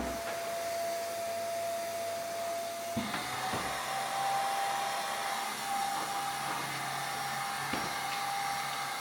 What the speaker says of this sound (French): passé un bon coup d'aspi au moins 4 fois